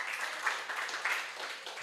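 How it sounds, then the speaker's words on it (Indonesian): A studio audience claps in steady, even applause that holds for a couple of seconds at moderate volume, with no voices standing out. "Tepuk tangan buat tim produksi."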